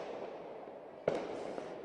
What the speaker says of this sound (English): You can hear some of the fireworks popping behind me